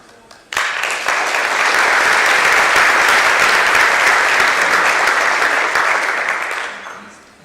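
Loud, sustained applause from a gala audience, starting abruptly after a brief quiet moment, holding full and even for several seconds, then tapering off at the end.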